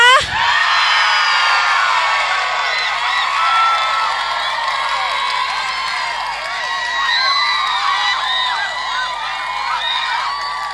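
A large crowd of women whoops, cheers and yells loudly and continuously at an outdoor Pheu Thai political rally at Wat Don Tum temple in Ban Pong, Ratchaburi, Thailand; many overlapping shrill voices rise and fall together, close and sustained.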